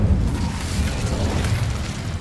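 Incendio fire spell in Hogwarts Legacy, a dense, loud, rumbling whoosh of flame with bursting booms, sustained for the whole two seconds with no talk.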